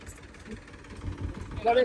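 A steady low tractor engine rumble idles throughout with people talking over it, growing a little louder near the end, as a brick-laden trolley sits stuck in a pond.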